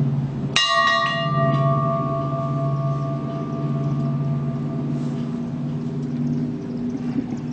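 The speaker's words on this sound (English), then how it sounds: "Now we will ring the bell" A single church bell rings at an outdoor vigil for child gun victims, one sharp strike followed by a long, slowly fading hum over a low background rumble.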